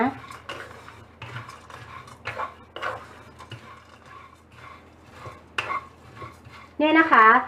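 Nuts and sesame seeds dry-roasting over low heat in a pan, a spatula scraping and clattering against the metal in irregular strokes, with a brief voice-like tonal sound at the very end.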